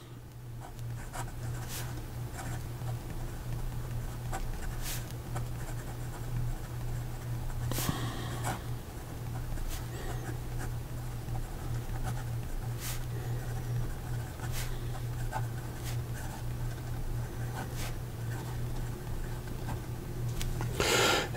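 A rigid steel-nib fountain pen writes on paper, giving soft scratchy strokes and scattered light taps over a quiet steady hum, close and faint, with pauses between words.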